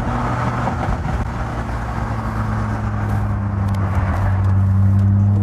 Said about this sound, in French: Vous voyez la Corvette en mouvement aussi.